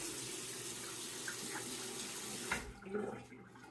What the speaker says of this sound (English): I'm gonna wet the razor now.